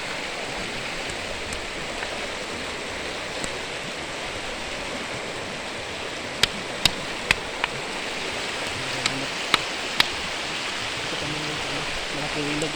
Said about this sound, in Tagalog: Malaking ilog mga kagimat.